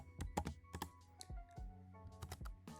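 Keys clatter on a computer keyboard as a short cd command is entered in a Linux terminal, with quick bursts of close, crisp taps, a brief pause, then a few more keystrokes. The sound is quiet, with no talk.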